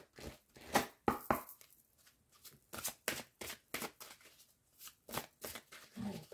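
A deck of angel oracle cards is shuffled close by, a quiet run of roughly a dozen crisp riffling bursts at an uneven rhythm, with short pauses between some of them and no speech.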